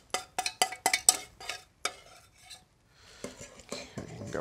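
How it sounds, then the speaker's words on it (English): Roux being stirred into a cream soup in a pan, heard as a quick run of sharp scraping strokes followed by a brief pause, then softer, rougher stirring and scraping close by. "I'm going to go ahead and add my roux and just stir here"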